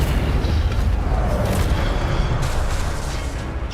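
Incendio fire spell blast in Hogwarts Legacy, a loud rumbling boom with roaring burst texture that holds steady for a few seconds amid game action.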